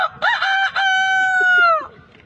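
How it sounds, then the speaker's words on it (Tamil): A rooster gives one loud, close crow, starting with choppy notes and rising into a long drawn-out cry that fades away, with faint outdoor background behind it. "இந்த சேவல் கூவுது."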